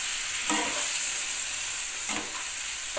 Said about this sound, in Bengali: সমস্ত মশলাগুলোকে জাস্ট হালকা একটুখানি কষাতে হবে